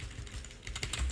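Brief burst of quick keyboard typing as code is entered on a computer during a programming class, with close, light clicks tapping in an irregular rhythm and no talk.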